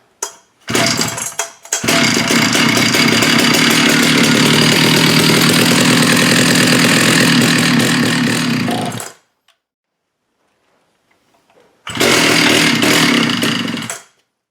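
A Jonsered 70e chainsaw being pull-started: a brief cough, then a loud, close two-stroke engine running steadily for several seconds, cutting out to silence, then firing up loudly again, with no talking.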